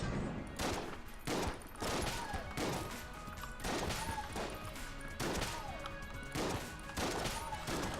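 A sawed-off shotgun fires in the video game Enter the Gungeon, with repeated loud blasts landing in a steady rhythm about once a second over continuous game sound.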